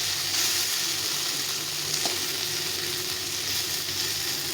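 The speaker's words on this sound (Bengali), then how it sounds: "আর একটু ভেজে নামিয়ে দিতে হবে।" Eggplant fries in a pan with a little oil, giving a continuous close-up sizzle with faint crackles and steady bubbling throughout.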